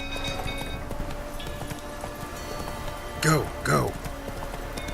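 In The Witcher 3 video game, the horse Roach gallops with a steady clip-clop of hooves running beneath the scene, while a voice calls out twice over it.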